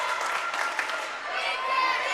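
A student section at a high school volleyball match cheers and applauds a server's run, a dense continuous wash of clapping and crowd roar with an announcer speaking over it.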